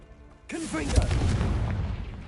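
A Confringo blasting curse explodes in Hogwarts Legacy, a sudden loud burst that opens into a rumbling, crackling blast and then a lingering roar. A voice speaks briefly over the start.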